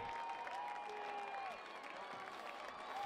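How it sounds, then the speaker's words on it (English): Football fans at a varsity high school game cheer and applaud in a steady wash of crowd noise, loud and sustained, with whistles and shouts rising over the applause. "And the fans begin to cheer."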